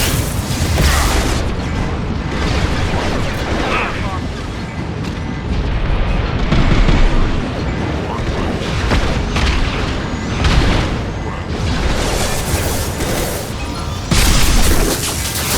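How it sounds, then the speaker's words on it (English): A high impact shot in Mass Effect 2 sets off heavy, booming explosions, loud rolling blasts layered with rumbling debris and combat noise that swell and recur across the stretch without speech. "Firing a high impact shot."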